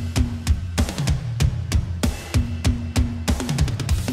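Metal drum mix from the Mixwave Mike Mangini drum plugin: loud, punchy kick and snare hits in a steady driving pattern with bright cymbal wash over them, no voices.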